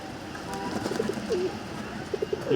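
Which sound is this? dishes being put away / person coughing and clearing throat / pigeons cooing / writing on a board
pigeons cooing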